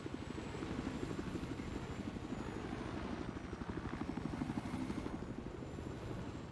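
Video-game helicopters fly with a steady, rapid rotor thump, a continuous mid-level chopping drone that holds evenly throughout.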